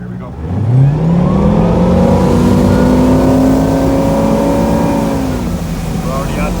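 A 1998 Air Nautique ski boat's inboard engine roars close by as it accelerates hard, its pitch climbing smoothly and then holding at a steady high drone at speed over the water.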